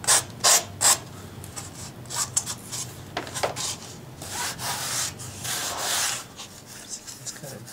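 A sanding block is rubbed over a foam aircraft fuselage in repeated rasping strokes, some short and sharp, others longer and steadier, close up and without talk.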